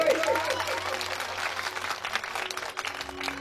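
Audience applause welcoming a former village head at a village stage event: dense, sustained clapping from a crowd, fairly loud throughout, with a faint voice and tonal sounds underneath.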